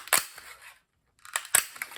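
A 1-inch circle paper punch chomps through sturdy cardstock in two bursts of sharp, crunchy snaps, a cluster early on, then a pause, then a second set of loud close clacks.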